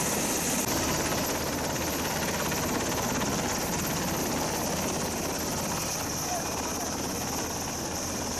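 A military helicopter lands at a city stadium in Kadirli, Osmaniye, giving a steady, loud rotor and turbine roar throughout with broad noise and no clear pauses.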